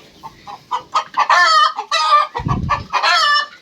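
Chickens cluck in quick, sharp bursts close by, with a rooster joining in among them and a brief low rustle partway through.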